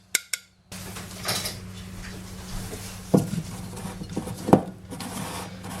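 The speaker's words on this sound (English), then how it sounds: "Just use a spatula to clean up the sides of the jar a bit." Spatula scraping and knocking against the inside walls of a sourdough starter jar, a few scrapes and two sharp clinks over steady low background hum.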